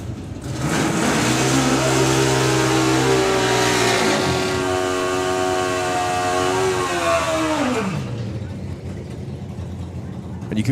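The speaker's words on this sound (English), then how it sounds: "You can really hear the difference in engine notes. The thunderous V-twin taking on the screaming banshee of the 4-cylinder GSXR." Drag racing motorcycles, a thunderous V-twin against a screaming four-cylinder Suzuki GSX-R, roar loudly at full throttle through climbing gear pulls for several seconds before the engine notes drop away, with a commentator talking over them.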